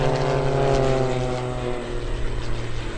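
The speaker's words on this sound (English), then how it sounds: "Here comes Bill Gordon, the closest airplane to you." Propeller aerobatic airplane at an airshow diving down to rejoin formation, a loud steady engine drone with pronounced harmonic whine that holds strong and slowly shifts in pitch as it passes.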